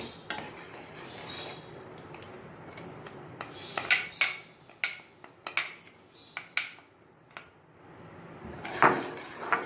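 A spoon scrapes and clinks against a pot while gulab jamun mixture is stirred and mashed steadily, with a run of sharp metallic knocks in the middle and a soft cooking hiss underneath, close and alone.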